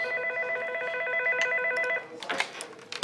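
A telephone rings in repeated electronic trills for about two seconds, then stops and gives way to brief clicks and handling noises.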